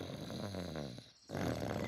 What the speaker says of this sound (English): It sounds like snoring.